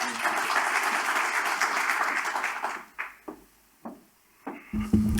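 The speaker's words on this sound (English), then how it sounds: "a round of applause for John Foley." Applause for a speaker at the Big Irish Campfire 2022, a dense round of clapping for nearly three seconds that drops off into a few isolated claps, followed by a brief voice.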